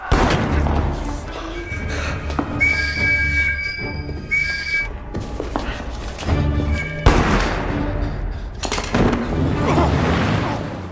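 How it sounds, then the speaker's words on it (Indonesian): A film shootout plays loudly, with bursts of gunfire, booms and whistling tones thick with action-scene effects. "Baku tembak pun terjadi."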